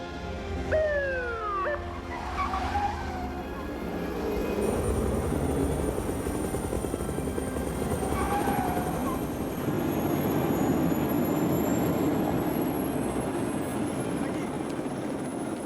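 A police helicopter drones steadily throughout, its rotor noise a continuous broadband rumble at moderate distance, with a dog barking a few times early on and faint tonal whines layered over the engine.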